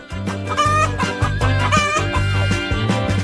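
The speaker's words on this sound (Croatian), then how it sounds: "Opa, kokoška?" A chicken clucks in a loud, close series of repeated throaty calls that run without a break and with no talking.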